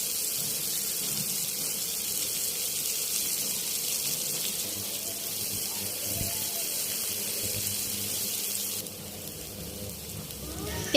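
Chopped onions frying in oil in a frying pan, a steady broad hiss and sizzle running throughout at close range, dropping slightly in level near the end, with no talking.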